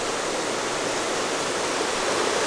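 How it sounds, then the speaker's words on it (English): A large spring in the Ozarks gushes up out of the ground, a loud, continuous roar of rushing water close by, with no other sounds. "286 million gallons of water a day. That's a pretty big spring."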